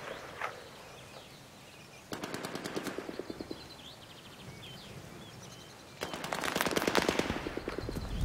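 Gunfire in the video game Battlefield: two separate bursts of rapid automatic fire, one short and one longer, crisp and fairly close, with quieter distant shots and ambient noise between them.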